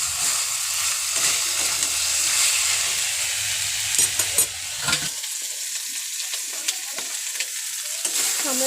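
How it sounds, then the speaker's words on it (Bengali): Chicken curry sizzles and crackles steadily in a pan as it is sautéed, with stirring scrapes throughout; after about five seconds the frying quiets into softer sporadic sputters and clicks, with no talking. "আমরা একটু কষিয়ে নেব এটাকে।"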